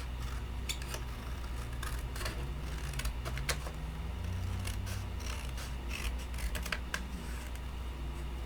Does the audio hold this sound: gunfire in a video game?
no